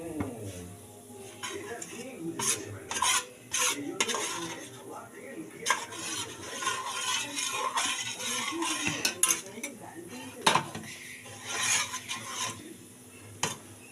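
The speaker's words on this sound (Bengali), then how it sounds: "এটাকে খুব ভালো করে আমি নাড়িয়ে নিচ্ছি" Chitoi pitha batter stirred hard in a bowl: a spoon clinks and scrapes against the sides in an uneven, busy rhythm, with a faint voice in the background.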